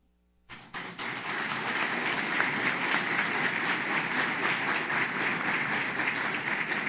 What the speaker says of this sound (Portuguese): Vamos todos aplaudir a quem merece.